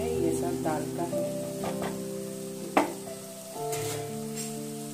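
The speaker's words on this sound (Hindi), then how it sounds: "थोड़ा सा आलू फ्राई कर रही हूँ" Potatoes fry in hot oil in a home kitchen, a soft continuous sizzle with occasional stirring clatter and one sharp knock. Someone talks over the cooking at moderate volume.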